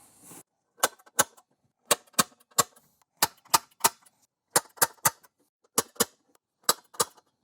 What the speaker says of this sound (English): So I'm going to mark mine with a center punch.